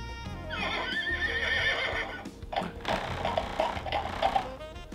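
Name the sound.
Toy Story Bullseye toy horse neighing sound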